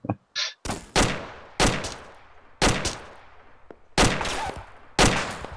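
Loud gunshots from the ArmA 2 military shooter ring out in five or six sharp, evenly spaced blasts, each trailing off into a short echo, with a couple of lighter thuds at the start.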